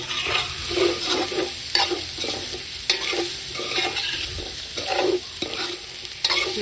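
Ingredients sizzle and fry in golden red butter for a traditional spicy pig tail soup, a close steady crackle broken by repeated scraping stirs of a utensil in the pan.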